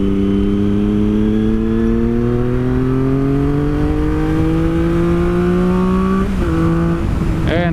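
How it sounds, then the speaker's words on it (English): Italian motorcycle engine accelerating up through a gear, a loud close rising harmonic whine that dips at a shift near the end and climbs again. "this bike sounds so good"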